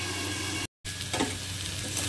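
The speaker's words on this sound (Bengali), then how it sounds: "আলুটা লাল করে ভাজা হয়ে গেছে" Potatoes seasoned with turmeric, salt and sugar frying in a covered pan, a steady close sizzle with a brief cut of silence and a soft stir or lid sound partway through.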